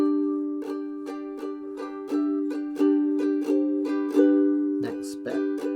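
A ukulele picks a riff slowly, plucked notes spaced out one at a time over sustained ringing strings, steady and intimate, with a slightly busier flourish near the end.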